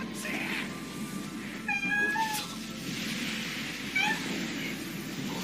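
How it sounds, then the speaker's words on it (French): A house cat meows to be let outside: a few short, rising meows, one near the middle and another later, fairly close, over a busy background of faint voices and ambient noise. "Oh, il y a mon chat, il veut sortir."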